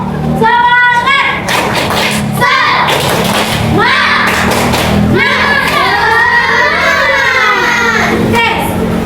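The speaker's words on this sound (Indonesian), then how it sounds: "Tepuk semangat." A second-grade class of children in an Indonesian primary school doing a rhythmic spirit clap, loud group claps and thumps mixed with the teacher's voice and children's chanting and shouts.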